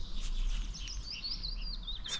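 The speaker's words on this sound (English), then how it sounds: "You hear all the birds." Several birds sing and chirp outdoors on a mild morning in Scotland, with bright warbling and whistled phrases at moderate distance, continuous over a low steady background rumble.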